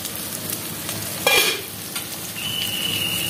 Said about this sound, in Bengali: আচ্ছা উচ্ছে ভাজাটা দেখি একটু।